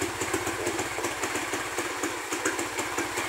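A Honda XRM motorcycle engine, just restarted after two years unused, idles close by with a fast, even putter and a steady ticking rhythm.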